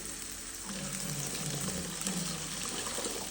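Water is poured into a hot pan of oil and spices while cooking seblak, giving a steady close rush and sizzle that continues for the whole few seconds.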